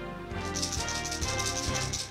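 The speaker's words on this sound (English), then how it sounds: "This is the sound of the rattle." Rattle inside a LiveTarget lipless crankbait lure in gizzard shad finish, shaken to give a rapid, steady run of fairly faint clicking over a low tonal hum.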